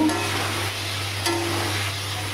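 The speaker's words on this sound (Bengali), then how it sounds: "এবার আমি এখানে আলুগুলো দেবো, আলুগুলো দিয়ে ভালো করে কষিয়ে নেব" Potatoes frying in oil with spice paste for a tilapia curry, a steady close sizzle with a low continuous hum underneath and no talking.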